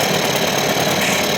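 An outboard boat motor running loudly on the test after repair, a dense steady mechanical clatter and rumble with a slight knocking texture, close and continuous.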